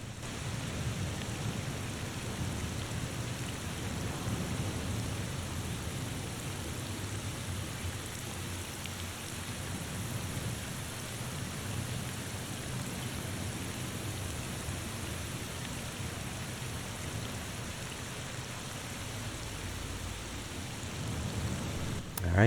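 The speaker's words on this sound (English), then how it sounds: "It's raining." Rain in the video game The Thaumaturge: a steady, even downpour hiss with low rumbling undertones that hold unchanged throughout, alone without voices.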